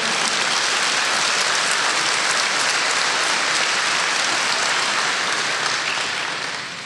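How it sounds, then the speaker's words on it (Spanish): A church congregation at a Spanish-language service claps for the Lord, a loud, thick, even roar of many hands that holds steady for about seven seconds before easing slightly at the end. "Dale un aplauso al Señor."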